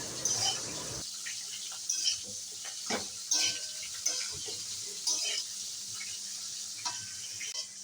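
Pumpkin greens and vegetables are stirred in a pan for a fish-head chorchori: a soft sizzle broken by a spatula scraping and turning about once a second, close by.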